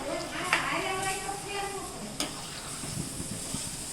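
Onion-tomato gravy is stirred in a pan over low heat, giving a soft sizzle and hiss with scraping and a few sharp clinks of the utensil against the pan, close up.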